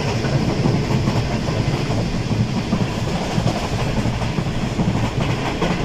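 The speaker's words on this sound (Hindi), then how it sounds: "ट्रेन की रफ्तार कुछ इस तरह की है। 112 पे गई है।" The Karakoram Express runs at high speed through open fields at night, heard from inside the carriage as a loud, dense rumble and rattling clatter of wheels on rails that continues without a break.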